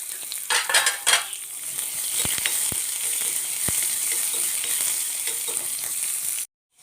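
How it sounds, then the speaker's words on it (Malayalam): Curry leaves and chopped small onions fry in a pan with a steady, close sizzle, broken by a few sharp clinks of a utensil stirring against the metal before the sound cuts off abruptly near the end. "കറിവേപ്പില ഇട്ട് കൊടുത്തു അതിൻ്റെ കൂടെ തന്നെ ഒരു ചെറിയ ഉള്ളി അരിഞ്ഞത് അതും കൂടി ഇട്ട് കൊടുത്തു ഉള്ളി നന്നായിട്ട് മൂത്ത് വരണം"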